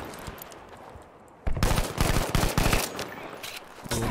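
Rapid automatic gunfire in Battlefield 5 bursts in loud and close after a quieter stretch, a dense rattling volley of shots continuing to the end with no voices over it.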